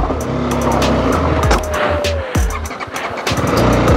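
A motorcycle carrying two riders with a low-pressure tyre labours up a steep off-road ghat track, its engine revving and dropping in close, loud bursts with gear changes and rough surging.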